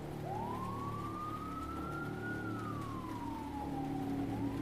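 A single police siren wails in the distance, its tone slowly rising and then falling in a long sweep over a steady low hum of background noise.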